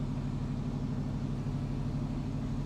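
An LS-swapped Camaro cruises along with its V8 running, a steady low engine drone and road rumble continuing evenly throughout, fairly loud and close with no voices.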